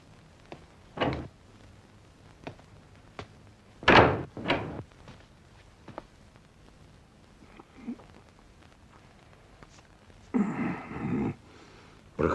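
Door in an office building opening and closing, heard as several sharp knocks and thuds with a louder double bang near the middle, later a scraping creak, against a quiet room background.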